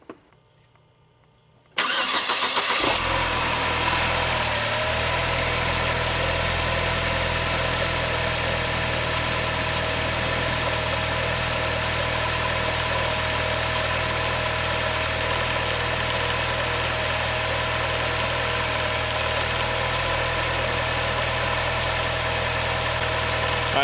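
A Saab 9-3 with a 2.0-litre turbo engine starts after a short quiet stretch, then runs steadily with a loud, even engine drone and vibration as it settles toward idle after throttle body cleaning.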